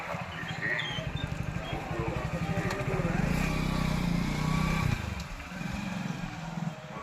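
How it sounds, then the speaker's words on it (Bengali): A motorcycle rides through the crowded Gangasagar Mela fairground, its engine chugging steadily up close and swelling in a brief rise before easing back, with faint crowd noise around it. "একটা বাইক পেয়ে গেছি এখানে, সেই বাইকে করে আমরা এখন বেরিয়ে গেছি।"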